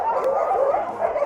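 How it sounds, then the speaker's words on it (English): Excited sled dogs in Skagway, Alaska yipping and whining together before a dog sled ride, a close, continuous chorus of high eager cries. "These dogs are so excited."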